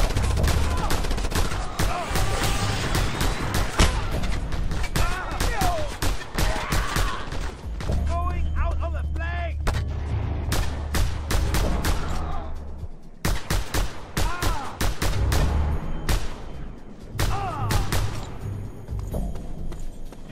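Covering gunfire in the video game Just Cause 2: dense, rapid bursts of shots and thuds pour out continuously, loud and close, with brief lulls and game voices talking over parts of it.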